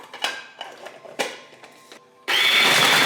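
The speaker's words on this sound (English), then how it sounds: "And then you just mix that in the food processor." A food processor mixing cream cheese into brownie batter: several short clunks and clicks of handling, then the motor kicks on with a loud, steady whir near the end.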